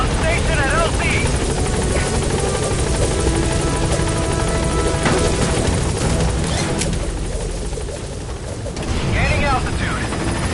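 A helicopter in the Metal Gear Solid video game gives a loud, steady rotor thump and engine roar throughout, with gunfire-like bursts and voices mixed in over it.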